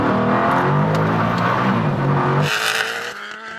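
Loud, continuous engine roar from cars such as a Koenigsegg Agera RS, Bugatti Chiron Super Sport and Tesla Plaid launching hard from about 50 in a rolling half-mile race. The pitch shifts partway through, and no voices are heard.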